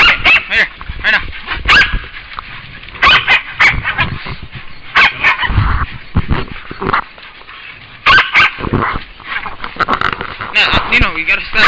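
A hunting dog on a Hawaii hog hunt barks and yips in sharp, irregular bursts close by, mixed with whimpers, while people talk and shout over it outdoors.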